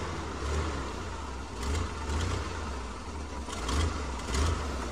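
A vintage Willys Jeep engine climbs off-road at Hells Gate, its low mid-pitched drone swelling in several uneven revs and surges, close and steady with no talking.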